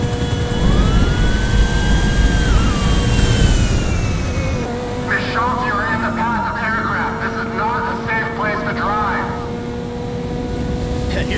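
A jet engine on a plane in GTA 5 winds up with a rising whine over a dense, loud roar that holds steady throughout, with other game sounds layered over it.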